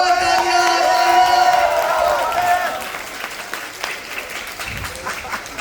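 A college cultural-event crowd claps and cheers for the MC, with loud applause and shouts under lingering music tones that gradually fade to scattered claps.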